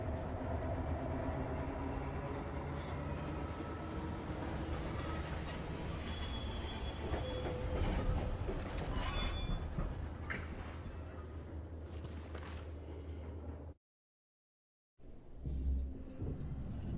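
A tram rides along rails toward a city's steel plant, a steady heavy rumble with clatter and metallic wheel squeals running for about fourteen seconds, then a brief silence before the noise resumes.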